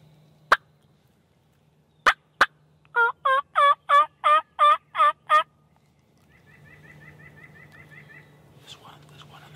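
Wild turkeys in Michigan woods give a quick burst of about eight loud, rolling gobbles in rhythm, after a few sharp separate calls, then quieter chirping birdsong and faint rustling follow.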